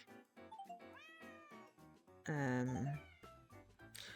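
A cat meows as an audio hint in the Hidden Cats in Paris video game, one loud drawn-out meow in the middle, surrounded by softer background game sounds and faint talk.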